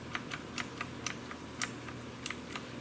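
Typing on a clicky Razer BlackWidow Ultimate mechanical keyboard: crisp, evenly spaced key clicks, about a dozen sharp strikes in a steady unhurried rhythm, close and fairly quiet in a calm room.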